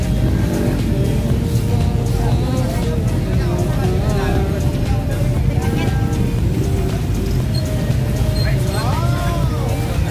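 Yamaha Sniper 150/155 motorcycles rev at a friendly motor show, a continuous loud engine drone rising and falling in pitch, with sharper throttle blips near the end and people talking over it.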